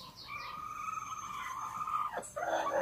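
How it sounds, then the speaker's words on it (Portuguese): A broody hen's rain call: a sustained, tonal, slightly wavering call that ends in a quick downward sweep before another call begins, close and clear over quiet background. "Esse que é o piado de chuva dela?"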